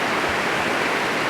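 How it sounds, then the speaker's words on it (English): Snow melt water pours down a mountainside beside a canyon trail, a dense, continuous rushing roar like a waterfall, close and steady throughout. "All the snow melt is pouring down the side of the trail"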